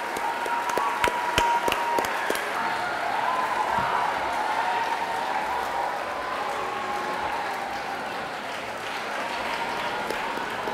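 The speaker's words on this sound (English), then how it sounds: "Please welcome them with a huge round of applause." A school audience applauds to welcome visiting guests, Olympic gold medallist Abhinav Bindra among them. Steady, dense clapping from a large crowd fills the hall and stays loud and even throughout.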